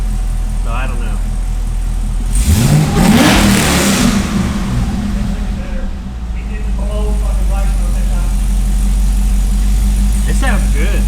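Cadillac CTS-V fitted with Texas Speed headers, its V8 exhaust idling low then swelling in a loud, close rev around the midpoint before settling back to a steady rumble; faint voices murmur in the background.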